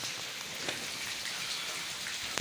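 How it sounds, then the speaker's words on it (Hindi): Heavy rain pours down steadily in a dense, even hiss, with individual drops spattering on surfaces throughout. "बारिश हो रही है बहुत ज़्यादा।"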